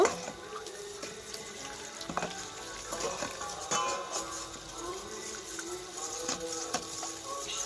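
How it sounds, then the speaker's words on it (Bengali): Warm water is whisked into cornflour in a bowl while making chilli chicken: a steady, busy wash of sloshing and liquid swirling, broken by sharp clicks of the whisk against the bowl, at moderate level with no talking. "এটাকে আমি উষ্ণ গরম জল দিয়ে ভালো করে ফেটিয়ে নেব"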